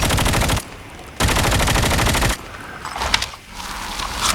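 AK117 assault rifle hip-fired in Call of Duty Mobile sounds as two loud rapid automatic bursts, each with dense rattling shots about a second long, separated by a short gap and followed by quieter game effects and a rising whoosh.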